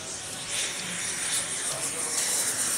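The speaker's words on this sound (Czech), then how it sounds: "Viděli jsme poměrně strmý sestup a nádherné přistání." A jet aircraft lands at the Jets Over Czech 2018 air show at Czech Heaven airfield near Ivančice, its broad engine roar steady and moderately loud throughout, heard from a distance.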